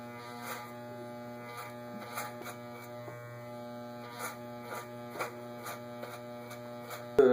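Electric hair clippers running steadily while cutting a taper fade, a close tonal buzz with faint rhythmic brushing or cutting passes over it, fairly quiet, ending with a sharp click.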